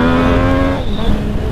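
A Yamaha MT-09 motorcycle engine revs loudly close by, its pitch holding steady then dropping briefly as the throttle shifts.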